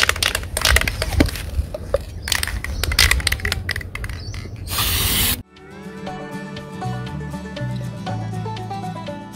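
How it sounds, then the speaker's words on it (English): A Mercedes Sprinter wheel rim, a former ambulance, gets spray painted: loud hissing aerosol bursts for about five seconds, then a sudden cut to music with no spray. "After that, you can start spraying the tire."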